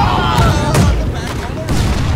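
Ship cannons fire in a naval battle video game, a series of heavy booms spaced about a second apart with rolling rumble between them, loud and close, under voices and battle chatter.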